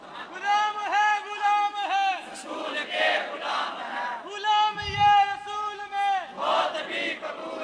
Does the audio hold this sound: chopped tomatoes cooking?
no